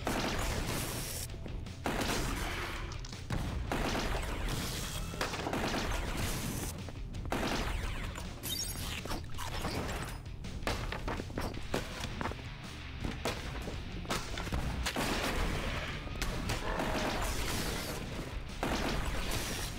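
Rapid bursts of gunfire and heavy impacts from the game Earn to Die Rogue repeat throughout, loud and close, in an irregular rhythm of volleys and short pauses.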